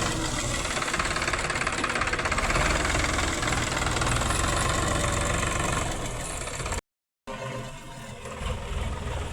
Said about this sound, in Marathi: हरभरे जे आपले चाललेले होते त्याच्यावर ट्रॅक्टर फिरून घ्यायचं